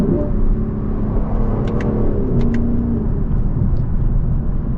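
A 2024 Lexus LC 500 with a 10-speed transmission driving and shifting, a loud, close, steady engine rumble and road roar inside the cabin, with a few brief clicks partway through and no talk.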